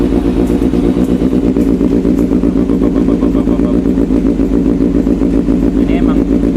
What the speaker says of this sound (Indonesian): Suara dari knalpot SC Project.